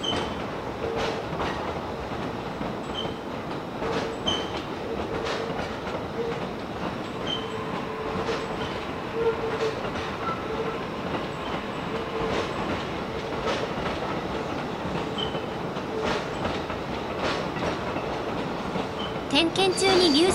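The first down-line train departs Tsuchiura yard toward Takahagi and runs past on the rails, a steady close rumble with rhythmic wheel clicks and faint squeals for about twenty seconds, rising slightly at the end.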